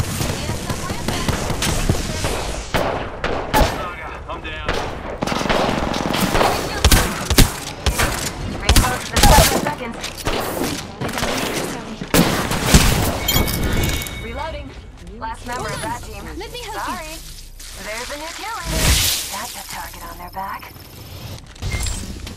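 Gunfire in the video game Apex Legends, with rapid bursts and single cracks in loud clusters through the first half, then sparser shots, mixed with game effects and a person talking over it.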